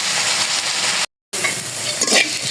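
Bottle gourd bhaji fries in a pan while being stirred, giving a steady loud sizzle with scraping stir strokes and one brief gap of silence.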